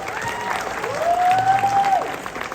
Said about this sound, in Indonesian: sama-sama berikan tepuk tangan yang gemuruh